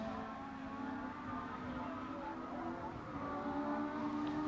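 A 1969 Tasman Series race car flashing past during the Grand Prix, a steady engine drone that swells slightly, heard at a moderate distance over a faint background.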